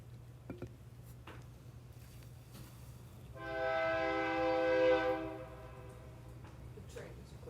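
A passing train sounds a single sustained horn blast of about two seconds, moderately distant, over a steady low rumble, with no talk.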